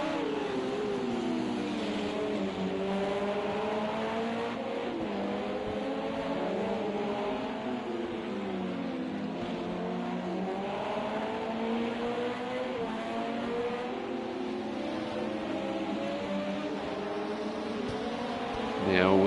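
LMP2 prototype race cars from Project Cars 2 at Fuji Speedway drone steadily, with engine pitch rising and falling as cars run nose to tail, and a commentator's voice continues over the roar throughout.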